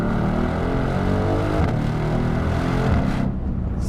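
Mercedes-AMG GLC63S Coupe V8, non-EU spec, revving hard and loud with a deep, continuous rumbling roar that holds steady before dropping off near the end.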